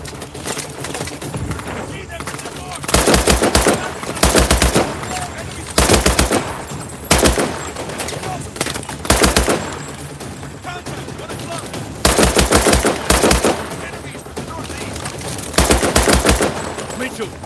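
Bursts of rapid automatic gunfire from Call of Duty Advanced Warfare, during a bridge chase with civilians and police nearby, repeat loudly every second or two over a constant rumble of game sound.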